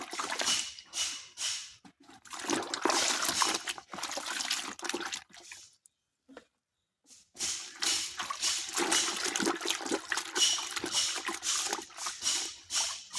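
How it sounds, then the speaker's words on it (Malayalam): Sandals being scrubbed and swished in a tub of water, with close, continuous wet splashing, sloshing and squelching that breaks off into near silence midway, then resumes just as busily. "ചെരുപ്പുകൾ ഈ വെള്ളത്തിലോട്ട് ഇട്ട് ഒന്നുകൂടെ കഴുകി എടുക്കാം"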